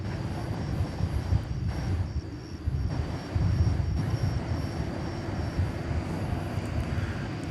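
A five-year-old Qantas Boeing 787-9 Dreamliner departs DFW Airport at night bound for Sydney, a sustained engine roar with a slight dip and swell midway, steady and unaccompanied by speech.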